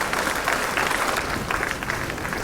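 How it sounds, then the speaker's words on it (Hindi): Steady applause from a crowd at a government ceremony handing appointment letters to selected candidates: dense, even clapping filling the whole short stretch. "तालियां लगातार हो, जोश से भरेंगी।"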